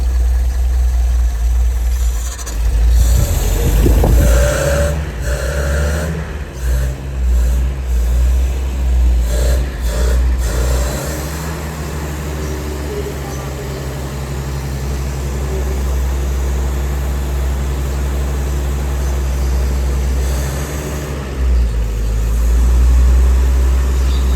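A long-parked car starts and idles, then pulls away from its spot, a loud close engine rumble with a revving burst early on and a steady low drone afterward.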